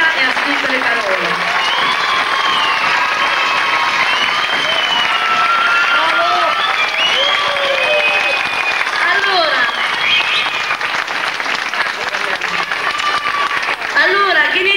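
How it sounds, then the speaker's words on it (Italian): An audience applauds the composer and lyricist after a children's stage musical of Snow White and the Seven Dwarfs in Sant'Eusanio, a steady, loud roll of clapping lasting the whole stretch, with voices and calls rising over it. "volevo fare innanzitutto un applauso a mio fratello Maurizio"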